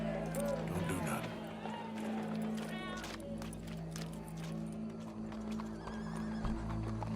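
In Red Dead Redemption 2, horse hooves clip-clop in a steady rhythm and a whinny rises at the start, under people talking, with a crowd faintly present in the background.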